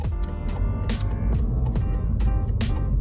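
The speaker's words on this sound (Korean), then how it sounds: "스바루 박서 엔진만이 이렇게 울리는 그 엔진 사운드가 좀 특이하죠" A Subaru Outback's boxer engine rumbles and revs up close, a low throbbing drone rising in pitch as it accelerates, with repeated gear-like surges.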